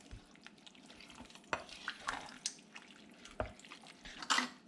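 Taco soup ingredients, including tomatoes and corn, being stirred together in a pot, with soft wet scraping and sloshing strokes at an uneven rhythm, close and fairly quiet with no talking.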